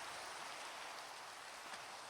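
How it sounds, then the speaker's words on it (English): Steady rain falls in a Minecraft world, a continuous even hiss of dense drops with no variation or pauses, moderately quiet and without any talking. "It's raining."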